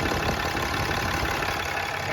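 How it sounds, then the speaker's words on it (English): A Ram 2500 Big Horn's Cummins diesel engine idles steadily, a dense, even rumble with a broad hiss over it, heard close with no voices and no knocking or ticking. "obviously you can hear the engine. There's no knocking, no ticking."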